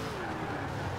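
A steady boxer engine drone from a car in Forza Horizon 4, continuous and fairly loud, with a faint tire squeal texture.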